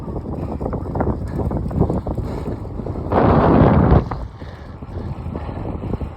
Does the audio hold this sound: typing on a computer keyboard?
no